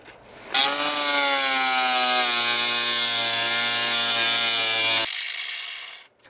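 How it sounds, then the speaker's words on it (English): An angle grinder cuts through the metal floor of a minivan, one loud sustained whine that starts abruptly, holds steady for several seconds, then drops away. "I'm gonna drill that and cut it out with the side grinder"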